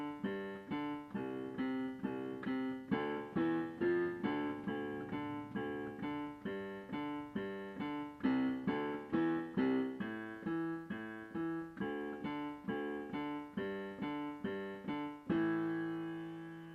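Piano playing the left-hand accompaniment of a song from La La Land, a steady repeating pattern of low broken chords, close and clear with no voices.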